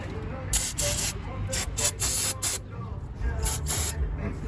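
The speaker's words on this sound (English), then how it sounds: "get some brake cleaner, spray on it" Several short, sharp bursts of aerosol brake cleaner spray hiss close by on a car's brake hardware, in quick irregular pulses over a low background rumble.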